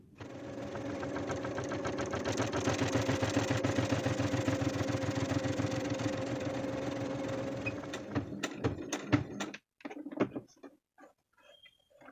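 Sewing machine stitching a net frill onto fabric runs as a steady, rapid mechanical whir for several seconds, then stops, leaving a few scattered clicks and handling knocks.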